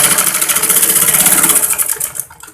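Sewing machine running steadily while stitching fine tucks into trouser fabric, a continuous close mechanical whir with rapid even pulsing that slows and fades toward the end.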